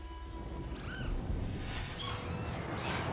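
In the video game Nioh 3, a cat gives a few short, high meows over a low, rumbling background.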